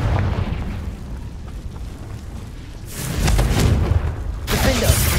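The Confringo fire spell explodes in the video game Hogwarts Legacy as a pair of low, rumbling blasts with crackling bursts over game sound, the second blast near the end.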